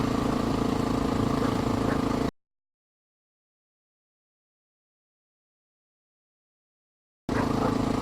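A Honda XR650L motorcycle engine idles with a steady, close mechanical chug, cut off by a long stretch of silence before the same idle returns briefly at the end.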